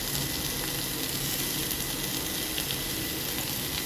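Onion, garlic, spices and carrot hit a hot pan while cooking a vegetable soup, giving a steady, dense, close sizzle with no pauses and no voices.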